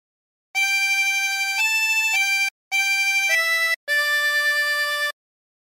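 Harmonica plays a phrase of Nearer My God To Thee, three sustained reedy chords with pitch shifts inside each, separated by brief breaths, clear and close with no voices.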